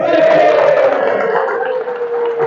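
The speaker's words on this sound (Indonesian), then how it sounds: "Tepuk tangan dulu ke Amang Panggabean." A seminar audience in a church youth gathering erupts in loud, close crowd noise, a burst of cheering and shouting voices that swells and then eases slightly over a couple of seconds.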